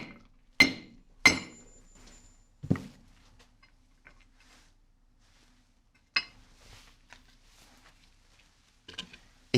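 A rock hammer strikes a rock outdoors in a few sharp, ringing blows spaced seconds apart, with quiet pauses between the impacts and no talk.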